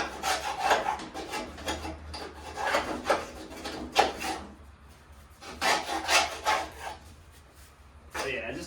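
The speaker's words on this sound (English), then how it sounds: "just a quick little scrape" A tool scrapes caked grass debris off the deck of a John Deere Z335E zero-turn mower in rough, rasping strokes, several bursts in an uneven rhythm close by, with short pauses between them.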